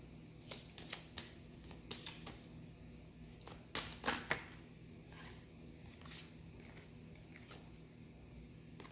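Cards from an erotic oracle deck are shuffled and drawn by hand in a quiet room, a series of soft papery riffles and flicks in short clusters, faint and close.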